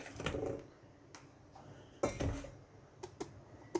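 A knife chopping seeded papaya for a crisp shredded papaya dish, heard as quiet, irregular knocks and taps of the blade against the board, with scattered sharper hits and no talking.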